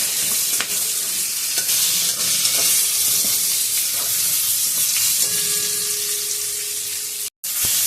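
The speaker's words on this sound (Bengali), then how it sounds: "এবার পটলটা খুব ভালো করে ভেজে নেব একদম লাল লাল করে ভেজে নেব" Pointed gourd (potol) frying in oil with salt and turmeric, a loud, continuous hissing sizzle with occasional stirs, running steadily before a sudden brief cutout near the end.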